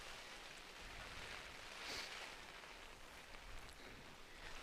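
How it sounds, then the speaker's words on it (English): Steady rain at an outdoor high school varsity baseball game, falling hard and blown sideways across the field, forming a broad, even hiss of wet noise that holds for the whole stretch with one brief swell in the middle; no voices. "And the worst part, the rain is going sideways."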